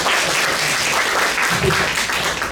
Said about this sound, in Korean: 우리 다음 박수 한번 시원하게 한번 부탁드립니다.